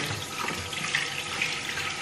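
Water running and splashing steadily as an expired room air freshener container is emptied and rinsed at a sink, a continuous close rushing flow with no talk.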